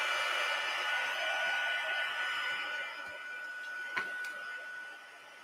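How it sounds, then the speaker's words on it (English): A Stampin' Up! heat tool set on high blows a steady, fairly loud whirring hiss with a faint tonal whine, fading slightly in its final second. "So when I'm using the heat tool, the Stampin' Up! Heat tool has two settings, low, high. You want it on high."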